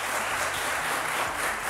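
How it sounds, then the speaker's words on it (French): Steady audience applause from a live show crowd, dense and even throughout, with no speech over it. "Applaudissez pour vous-même."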